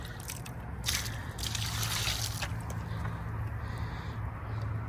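Water poured onto a concrete surface to rinse an oil stain treated with Gray Out, a soft steady slosh and trickle with brief splashy bursts, quiet and close with no talking.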